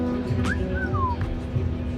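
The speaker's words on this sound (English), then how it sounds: "That is a vacuum-powered Wolf whistle." A vacuum-powered wolf whistle on a 1957 GMC truck at a car show in Naples, Florida, gives one clear rising-then-falling tone. It lasts under a second and sounds loud over a steady background rumble.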